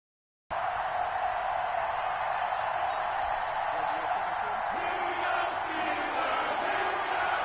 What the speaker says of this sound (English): This crowd is ready as their guys get set to match up between the Cincinnati Bengals and the Pittsburgh.